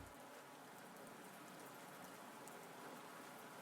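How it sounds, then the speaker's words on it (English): Soft, steady rain plays quietly as background ambience, an even, continuous patter with no voices over it. "do you guys maybe want some rain sounds?"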